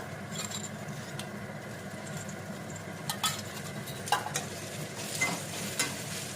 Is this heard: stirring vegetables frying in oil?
yes